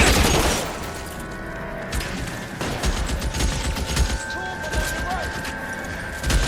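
Tommy gun bursts in a first-person shooter match, loud rapid fusillades near the start and intermittently throughout, mixed with crashes and booms of a house shootout, with game chatter under the gunfire.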